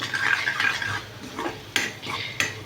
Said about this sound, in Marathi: हे बघा चांगलं तेल सुटेपर्यंत परतून घेऊया